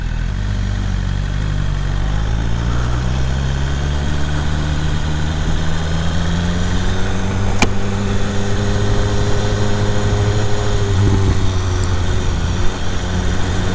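A 2017 BMW S 1000 R motorcycle rumbles steadily while riding in San Jose traffic, its engine note rising and settling through gear changes under constant wind and road noise, with no talking.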